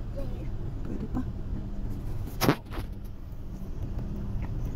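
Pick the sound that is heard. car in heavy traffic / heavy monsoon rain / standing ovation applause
car in heavy traffic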